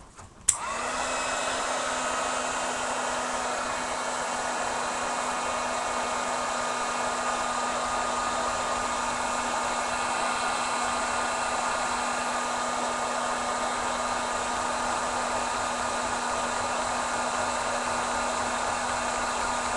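A heat tool drying a mixed media craft tag clicks on and then blows a loud, steady whirring hum that runs unbroken and close by, with no speech.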